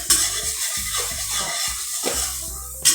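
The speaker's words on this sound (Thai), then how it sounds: "เราจะกลับจะกลับด้านไข่นะฮะ" An egg frying in a pan is turned over, with a steady hiss of oil under the scrape and clatter of a utensil against the pan and a couple of sharper knocks. The sound is close and fairly loud.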